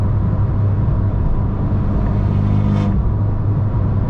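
A Fiat 500 Abarth engine with a stage 2 tune drones and rumbles loudly from inside the cabin, a low steady pull as it gains speed.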